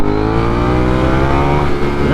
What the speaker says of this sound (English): I'm just gonna go slow and try to accelerate through it like I did before